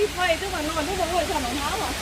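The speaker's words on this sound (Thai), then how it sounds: "เป็นลำธาร นะลำธารน้ำตก เกิดจากน้ำผุด" Steady broadband rush of a spring-fed limestone waterfall stream at Sai Yok Noi, heard as a continuous hiss beneath a person talking over it.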